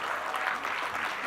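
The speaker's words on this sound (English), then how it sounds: "a big round of applause for all the nominees, please" Audience applause for news award nominees at a global news forum, a short continuous patter of many hands in a hall, even and fairly loud with no speech over it.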